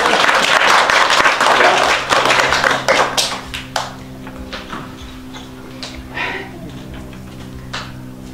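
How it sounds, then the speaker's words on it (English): An audience at a magic show applauds a girl volunteer, a dense burst of clapping that fades to scattered claps and taps after about three seconds, with a low steady hum underneath. "Give this girl a round of applause"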